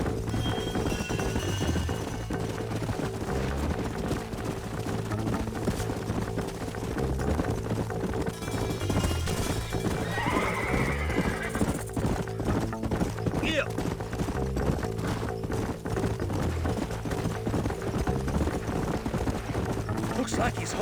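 Horse hooves clip-clop in Red Dead Redemption, a steady rhythmic trot heard through most of the stretch beneath a sustained musical bed and voices.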